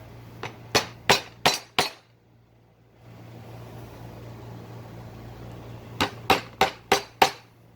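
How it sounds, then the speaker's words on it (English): Sharp metallic hammer strikes on a center punch marking a house number for installation, five quick taps, a pause with faint hiss, then five or six more evenly spaced taps. "We're going to set it right on the bullseye and we're going to punch it"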